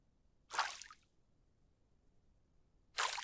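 Washing up with dirty water in the survival game No One Survived: two short, wet splashing squishes about two and a half seconds apart, close and clear over near silence.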